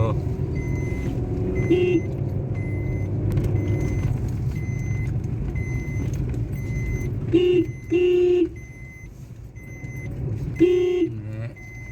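Road traffic in Udaipur heard from inside a moving vehicle on a busy, potholed Sunday road with scooters: a steady low rumble of engines and tyres, with several short horn honks breaking through near the end.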